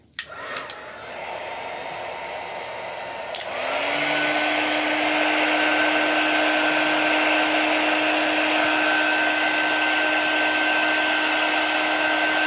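A hair dryer blows on chalk-painted Christmas ornaments, starting with a softer whir after a few handling clicks, then switching to a louder, steady high roar that runs on close by, with no speech.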